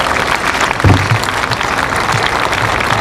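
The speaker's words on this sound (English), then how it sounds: "They all deserve another nice round of applause" Applause from an audience at an outdoor city event at Duffy Square and the TKTS booth opening, steady dense clapping throughout with a low thump near the start, no talk over it.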